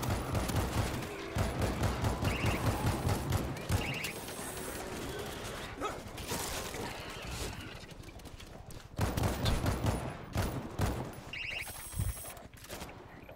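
Gunfire in the World War Z Aftermath game, with rapid bursts of automatic shots that come and go in clusters among other noises and lulls.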